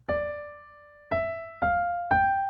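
Four sustained, ringing notes from the second part of a video game's main theme are played one after another, each rising slightly in pitch and left to decay. They sound clear and close, with no talk.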